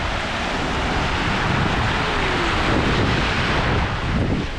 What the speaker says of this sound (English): here you can see where the waves meet